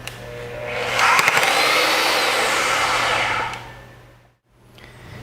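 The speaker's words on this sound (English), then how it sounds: "set the direction lever to R and press the trigger switch, the machine will first back out about 15 degrees and stop" An AGP DB32 electric tube bender runs in reverse to back off and release a bent tube, giving a loud, steady motor whine for about two and a half seconds before stopping, with a brief quieter whir after.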